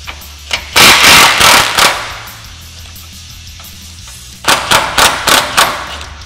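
Rapid bursts of a power or ratchet tool loosening the upper radius arm bolt on a Polaris RZR Pro R with a 21 mm socket and wrench, two clusters of loud, close rattling pulses separated by a quieter pause.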